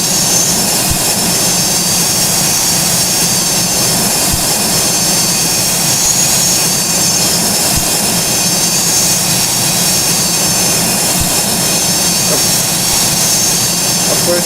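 Jet engines roar steadily as a Boeing 727 comes in to land in the flight simulator Project Flight, a loud, continuous whine and rumble that holds without a break.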